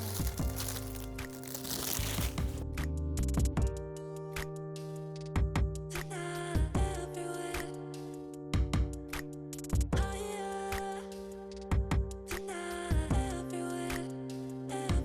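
Protective film is peeled off the glass side panel of a Corsair 3000D PC case, giving faint crinkly crackles and repeated sharp ticks and snaps at a close, quiet level.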